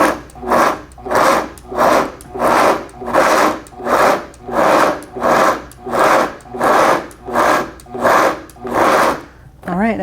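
Homemade granola ingredients being stirred together in a bowl, a rhythmic scraping and rustling that repeats about twice a second, loud and close, with no talking.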